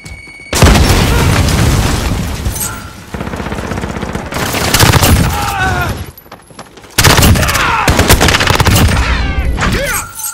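Loud first-person shooter battle with a grenade blast and rapid automatic gunfire, including an MP7 submachine gun, in repeated dense bursts and booms, with brief drops between volleys and voice callouts mixed in.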